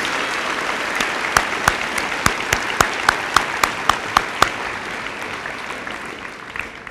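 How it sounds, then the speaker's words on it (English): A junior high graduation audience in District 86 applauds the school board members: steady, moderately loud clapping with a string of sharp, evenly spaced individual claps standing out over the first half before the applause thins toward the end. "I ask that you give these individuals a round of applause"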